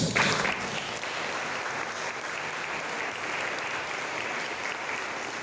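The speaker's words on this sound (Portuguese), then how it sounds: "E você pode aplaudir o Senhor." A church congregation applauds steadily and loudly throughout, a dense wash of many clapping hands with no pause.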